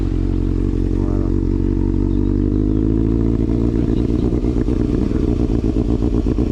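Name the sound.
Honda CBF 600 N inline four-cylinder motorcycle engine running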